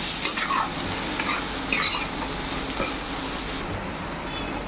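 A mixture seasoned with salt and ground black pepper is stirred in a hot pan for mixed fried rice. A close, loud, continuous sizzle runs under repeated scraping and clattering from the spoon.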